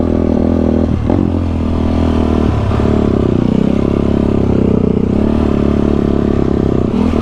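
A motocross bike runs on a tacky dirt track at the Stacker MX Track in mild weather, its engine droning loud and close without a break as the pitch rises and falls, with wind buffeting and no talking.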